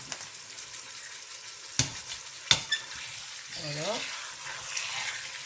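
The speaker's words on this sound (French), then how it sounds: "vous mettez votre rôti pour le faire dorer sur les deux côtés" A pork roast sears in olive oil in a pan, a steady sizzle with a few sharp clatters as the meat is turned and set down, and a voice speaks briefly near the end.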